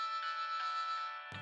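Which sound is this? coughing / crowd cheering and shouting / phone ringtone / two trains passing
phone ringtone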